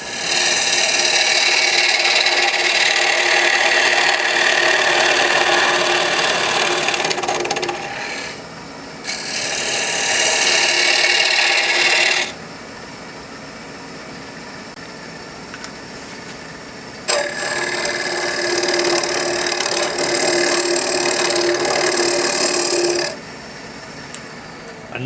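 Cocobolo wood turning on a lathe while a tool hollows the inside, a steady loud scraping rasp that stops briefly twice, then resumes, under a constant motor hum.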